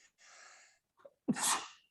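A single sharp sneeze, preceded by a quick inhaled breath, close and fairly loud in a quiet room.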